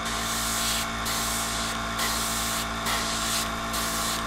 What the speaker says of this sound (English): do a practice with your airbrush doing the same motions